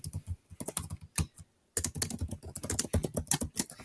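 Keys tapped on a computer keyboard while entering a research citation, a quick irregular run of close, crisp clicks broken by a short pause before the typing resumes.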